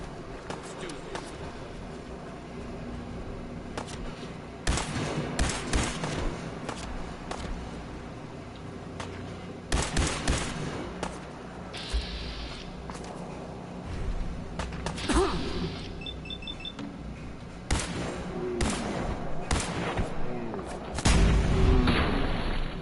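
Gunfire in Fallout 4, sharp shots cracking in irregular bursts and single reports across a long stretch, loud and close, mixed with other game noises.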